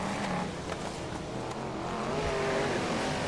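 BriSCA Formula 1 stock cars race at Crewe in 1992, a loud, continuous engine roar with passing surges and rough mechanical noise from the pack, with no voices.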